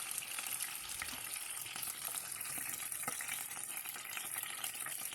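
Karimeen (pearl spot) fish frying in oil in a pan for a Kerala-style fish molee, a steady dense sizzle with faint crackles and pops, close and continuous with no talking.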